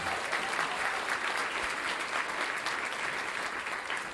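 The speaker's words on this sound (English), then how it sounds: "So let's give them a big round of applause as well." A room full of guests at an awards breakfast honoring women applauds steadily, a dense, even patter of many hands clapping continuously at moderate volume, with no talk over it.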